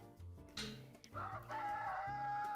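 A rooster crows a full cock-a-doodle-doo as a sound effect, rising into a long drawn-out final note, fairly clear with some background clatter.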